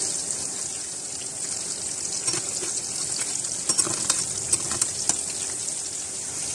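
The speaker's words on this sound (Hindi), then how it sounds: "Chicken balls Aahista Aahista fry हो रहे हैं।" Chicken balls frying slowly in a pan of oil, a loud, steady, dense sizzle throughout, with a few sharper crackles and pops near the middle and no voices.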